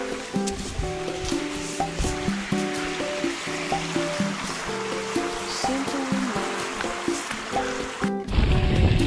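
A stream near Lake Narach flows with a continuous rushing, bubbling wash, while a rhythmic mechanical tone pulses through it until a brief interruption near the end.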